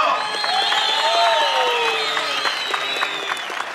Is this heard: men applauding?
yes